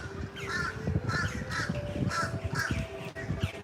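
Two crows caw loudly and repeatedly outdoors in the early morning at a theme park, their harsh calls arriving in an uneven string of bursts over steady low background crowd noise.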